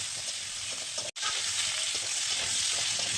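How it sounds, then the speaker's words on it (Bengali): Potatoes frying in a wok with salt and turmeric powder, a steady close sizzle throughout with one brief cut, no talk. "একটু হলুদ গুঁড়ো দিয়ে ভেজে নেব।"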